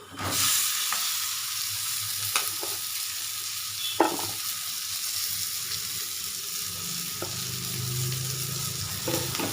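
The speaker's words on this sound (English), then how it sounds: "we'll go ahead and add the cosinia, or the kundru" Coccinia (kundru) goes into a hot pan and fries, a loud crackling sizzle that holds steady, punctuated by a few spatula scrapes and clicks as it is stirred, no speech.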